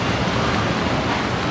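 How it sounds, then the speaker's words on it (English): Strong wind buffeting the microphone, a steady loud rushing roar with no pauses and no talk. "So windy."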